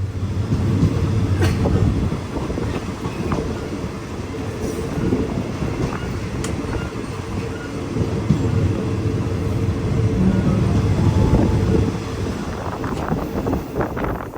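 A train rumbles steadily along the rails past Phu Khao Lat station near Nakhon Ratchasima, Thailand, with dense low-frequency roar and occasional rattles, continuous and fairly close throughout, no voices.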